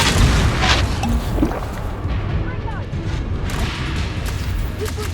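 Confringo and Reducto spell blasts in Hogwarts Legacy land as deep booming explosions, strongest at the start and then fading into a low rumble, with a voice shouting spell names over them.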